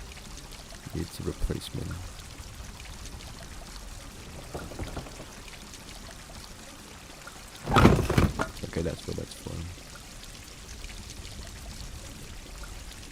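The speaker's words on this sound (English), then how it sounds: "Okay, water goes down there." Water pours in a short burst in the Grim Legends game, a splashing stream lasting about two seconds amid quiet background, with a person talking before it.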